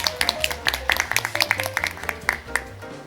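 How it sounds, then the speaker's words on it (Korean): Audience at a live-streamed conference panel clapping for the presenters and moderator, a scattered, moderately sized round of distinct hand claps with a low musical tone underneath. "다시 한번 정말 좋은 발제 그리고 토론해주신 그리고 또 잘 이끌어주신 사회자분까지 큰 박수 다시 한번 부탁드리겠습니다"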